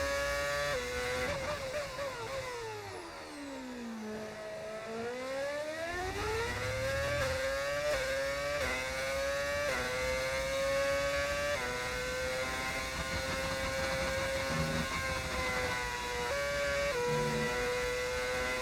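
Formula 1 car engine in a racing video game on a qualifying lap at Belgium, high revving tone climbing through gears, dipping sharply for a braking downshift then winding back up, steady and close without talk.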